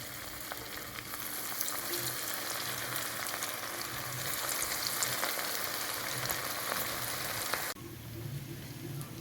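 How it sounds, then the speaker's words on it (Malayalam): Cauliflower pieces deep frying in hot oil give a dense, steady, rain-like sizzle heard close up, which eases off slightly near the end. "നമുക്കിനി ഓരോന്നായിട്ട് ഇതിലോട്ടിട്ട് ഫ്രൈ ചെയ്തെടുക്കാം."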